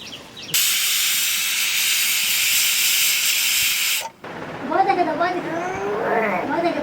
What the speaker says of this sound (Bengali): প্রেসার কুকারে ঢাকনা লাগিয়ে দিলাম এবার একটা সিটি দেবো